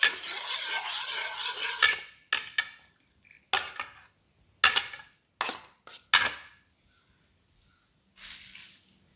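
A utensil stirs chili tomato French toast batter in a bowl, first in a continuous scraping swirl, then in a series of short separate strokes and taps, close and alone.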